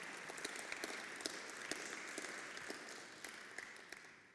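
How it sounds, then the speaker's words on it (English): Moderate applause from a conference audience welcoming a panel speaker, steady clapping with a few distinct nearer claps standing out, tapering slightly toward the end. "Big applause."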